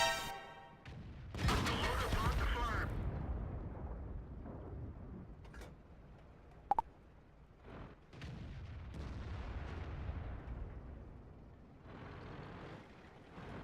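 Tank cannon fire in World of Tanks on the Lakeville map booms out in a few heavy, rumbling shots with long decaying echoes, separated by quieter stretches of engine noise and a sharp metallic ping.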